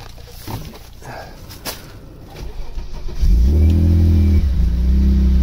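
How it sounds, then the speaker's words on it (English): A Vauxhall Senator CD 3.0 24V with a running fault cranks and catches, then settles into a loud, close, steady engine drone with a strong low hum after a few seconds of scattered handling noises. "we'll see if the car will run with it."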